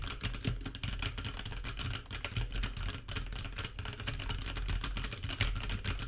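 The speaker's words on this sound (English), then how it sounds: "this is what it sounds like when you start pressing some keys" Rapid, continuous clacking of computer keyboard keys being pressed, a dense rhythmic patter of typing heard up close through a Razer Seiren Mini USB microphone.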